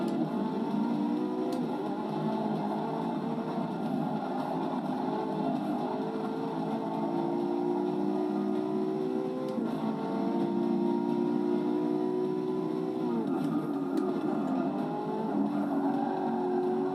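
Race car engines roar continuously in Forza Motorsport 6 on the final lap at Catalunya, a BMW and a Bentley among the field, with loud sustained revving and shifting pitch as cars jostle close together throughout.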